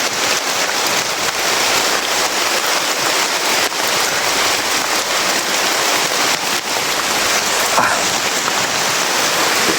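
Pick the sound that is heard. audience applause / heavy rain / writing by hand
heavy rain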